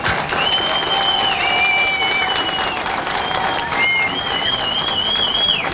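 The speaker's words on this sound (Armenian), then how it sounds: "Շնորհակալ եմ, իսկապես այս ծափահարությունները ձեզ" A crowd at a campaign meeting breaks into loud, sustained applause, with thin, sustained whistle-like tones ringing above the clapping throughout.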